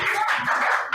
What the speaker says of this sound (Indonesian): Ayo beri tepuk tangan buat kelompok 1.